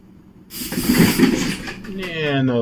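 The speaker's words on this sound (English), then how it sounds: "you can hear the spray taking off" A sharp aerosol hiss from an SSScat cat deterrent spray can bursts in and sprays steadily for a couple of seconds, with a voice talking over it near the end.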